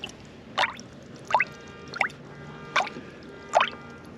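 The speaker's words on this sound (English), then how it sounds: "I don't know if those bubbles are coming from the radiator system or if they're just bubbles from the disturbance of the coolant" Coolant in the radiator of a 1983 Chevy 20 van with a 6.2L diesel bubbles and plops in five distinct drip-like pops, spaced roughly evenly apart over faint background hiss.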